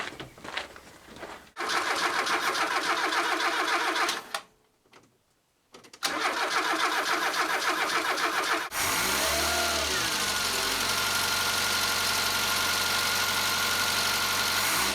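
A car engine fitted with a Zenith 28IF carburetor cranks with rapid churning, stops briefly, cranks again, then catches and settles into a steady idle close by.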